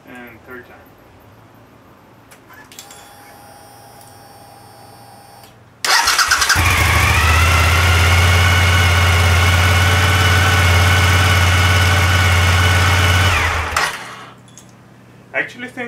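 A Suzuki SV1000 motorcycle with a DIY LiFePo4 battery on its third start: a quiet whine first, then a loud close engine catch into a steady throbbing idle for about eight seconds, then cut off.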